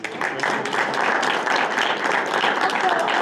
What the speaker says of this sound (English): So if we can applaud for them one more time.